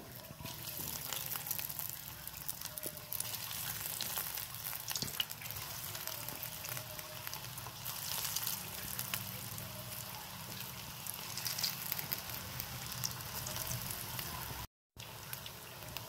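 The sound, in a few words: snacks frying one by one in hot oil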